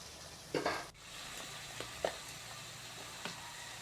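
Tomatoes and onions sautéing in a pan for a Tamil kari (meat curry), making a steady soft sizzle with a few stirring clinks and scrapes. No one speaks.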